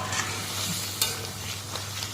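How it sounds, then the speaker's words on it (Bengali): Potatoes fry in a pan in a home kitchen, with a steady, close sizzle and faint crackles throughout and no talking. "এখন আলুগুলো ভেজে নিচ্ছি"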